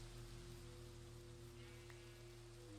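Steady rain falls in a Minecraft world, a continuous soft hiss of drops on surfaces that runs evenly throughout, heard alone without any talk over it.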